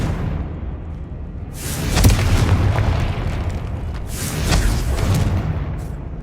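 Confringo blasting spells in Hogwarts Legacy go off as two booming explosions a couple of seconds apart, each swelling into a broad rumble over a steady low background.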